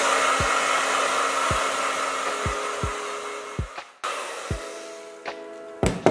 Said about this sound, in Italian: phon e asciugo la cute